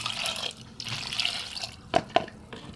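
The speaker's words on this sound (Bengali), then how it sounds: "এতে আমি জল দেবো" Water pours over four unpeeled potatoes in a pressure cooker, a short splashing pour followed by two small drips or knocks, quiet and close with no speech.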